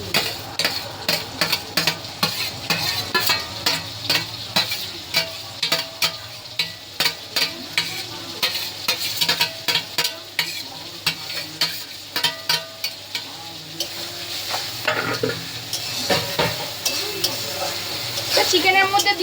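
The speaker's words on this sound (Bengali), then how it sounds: "তো দেখো পেঁয়াজটা একটু ভাজা ভাজা হয়েছে। এর মধ্যে এই বাটা যে পেঁয়াজটা বেটে রেখেছি সেই বাটা পেঁয়াজগুলো দিয়ে দেবো।" Onion paste goes into onions frying in oil and is stirred, giving a run of regular scraping spoon strokes over a continuous sizzle, close and fairly loud.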